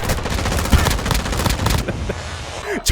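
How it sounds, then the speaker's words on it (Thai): Rapid gunfire from a weapon in the video game Warzone, a loud continuous burst of shots for nearly two seconds before cutting off, followed by quieter game sounds. "ช็อตแล้วปืนมันลั่นไง"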